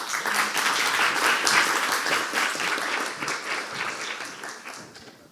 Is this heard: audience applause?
yes